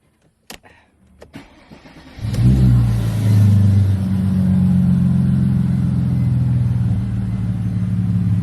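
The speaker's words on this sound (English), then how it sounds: "give it a fire up, let you listen to it. All right, let's see how it sounds." A Mercedes C32 AMG fitted with a custom exhaust fires up in a garage after a few faint clicks. It settles into a steady, moderately loud low rumble that stays near and even to the end.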